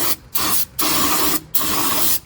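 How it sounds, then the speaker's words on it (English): Three short bursts of non-chlorinated aerosol brake cleaner sprayed into a Mustang GT differential, hissing loudly, each lasting about half a second, separated by brief pauses. "we're going to spray it out with some non-chlorinated brake clean"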